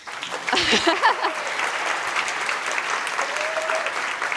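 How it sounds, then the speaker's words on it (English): A science slam audience greets the winners with sustained, loud applause that swells early on and continues as an even crackle of clapping, with some voices mixed in. "So we have the winners here, so a little round of applause, please."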